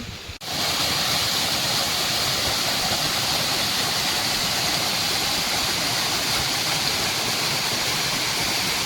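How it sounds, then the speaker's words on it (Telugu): A small waterfall beside a highway near Sunki on a ghat road pours with a steady, loud, broadband rush of water, continuous throughout after a brief dip at the start. "అక్కడ ఒక హైవే మీద చిన్న వాటర్ ఫాల్ చూడండి చాలా బాగుంది"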